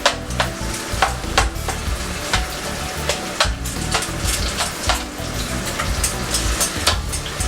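Vegetables sizzle and fry in a pan, a steady close crackle broken by frequent sharp stirring scrapes and clicks, loud and continuous with no talking.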